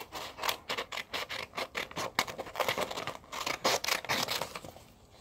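Scissors snipping through folded paper to trim it into a triangle for a ninja star, a steady run of rapid close cuts and crisp scraping, quiet and without talk.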